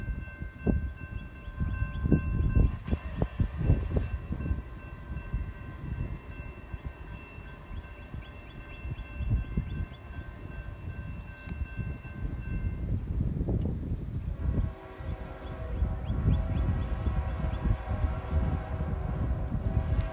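A CSX M653 southbound freight train passes on the Clinchfield line, its horn sounding as steady sustained tones over a loud, continuous rumble and clatter of rolling cars that lasts the whole stretch.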